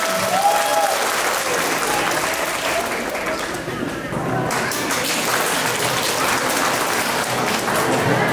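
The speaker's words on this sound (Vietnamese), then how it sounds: "Xin một tràng pháo tay lớn lên nào." A large audience at a parish celebration honoring mothers applauds in a loud, sustained, dense wash of clapping, with faint voices mixed in.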